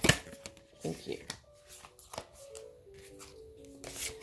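A deck of goddesses, gods and guardians oracle cards being shuffled, with several soft riffling bursts and card slaps in close, intermittent handling, alongside a faint tone.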